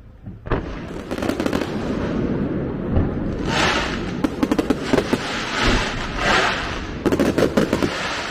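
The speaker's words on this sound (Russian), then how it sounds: "Как вам фейерверк?" A fireworks display at a replica of Venice's St Mark's Square in Shenzhen, China: dense, continuous crackling and booming bursts, with sharp rapid volleys of pops repeating through the whole stretch, loud and fairly close.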